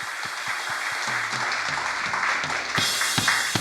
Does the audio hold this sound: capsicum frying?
no